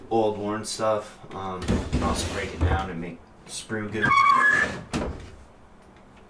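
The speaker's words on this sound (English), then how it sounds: "I apologize for the noise. The drawers need stuffed." Drawers being opened and closed, with rattling, scraping bursts of wood and contents mixed in with a person talking nearby throughout.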